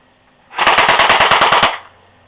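An airsoft gun fires one quick automatic burst of about a dozen rapid, evenly spaced shots, loud and close, lasting just over a second with no talking.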